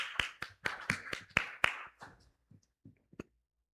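Scattered claps from a small group at a Korean church Sunday service, a brief burst that quickly thins out into a few isolated claps before falling silent.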